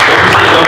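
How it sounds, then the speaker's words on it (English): Applause at a sales meeting: a short, dense burst of many hands clapping together, loud and continuous across the whole moment. "Give Tony a round of applause"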